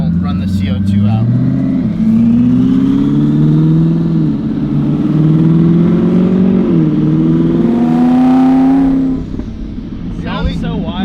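A big-turbo Lamborghini Huracan engine revs hard during a pull on cold slicks, its loud rising and falling drone climbing through the gears before cutting off near the end, with a voice talking over it.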